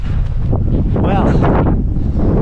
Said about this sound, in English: got some proper wind